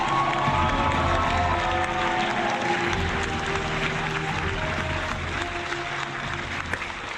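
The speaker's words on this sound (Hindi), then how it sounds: "बहुत सारी तालियां होनी चाहिए।" A large awards-show audience applauds continuously, a dense wash of clapping with scattered cheers and shouts, holding steady throughout.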